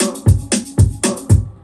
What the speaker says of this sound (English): The foundation of the beat sounds like this.